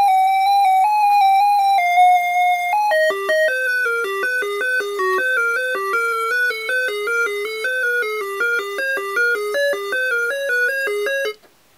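An Arduino sample-and-hold synth fed by a software noise source plays loud, bright square-wave tones, first a few held pitches and then a rapid stepped run of random notes that stops abruptly.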